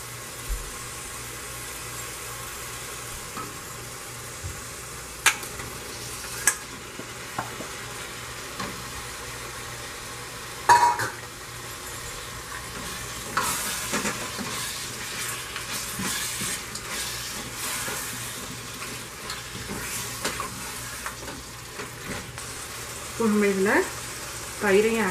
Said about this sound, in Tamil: இதோட நம்ம வேக வச்சு வச்சுருக்க மட்டனையும் இதிலே சேர்த்துடலாம்.